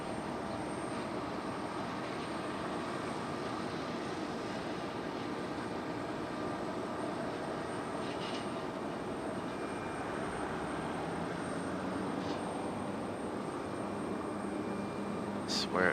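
A Southwest airliner arriving from Baltimore at Raleigh-Durham produces a steady, moderately distant jet roar that holds evenly throughout, with faint higher tones above the rumble.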